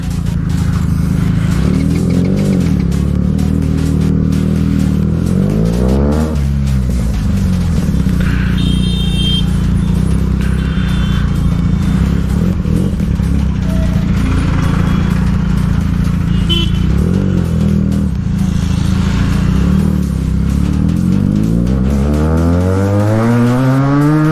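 A Benelli TNT 300 and a Yamaha MT-15 riding together on city roads: loud, continuous engine drone with repeated rising and falling revs as the bikes accelerate and shift, traffic noise and a horn in the background.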